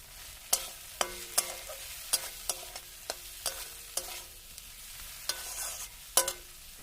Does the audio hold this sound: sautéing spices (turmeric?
yes